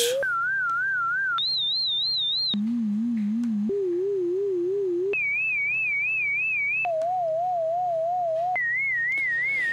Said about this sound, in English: now you got his um, singing saw sound